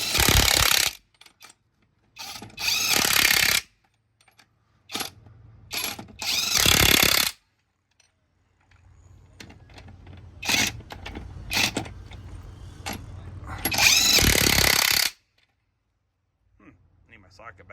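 A Seesii 3/4-inch drive impact wrench runs lug nuts on in several loud, harsh rattling bursts, separated by pauses filled with quieter clanks and handling noise.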